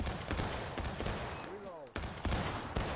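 Musket volley in the War of Right Civil War game: a string of sharp, scattered gunshot cracks at mid distance, with a brief warbling tone in the middle and a renewed burst of shots near the end.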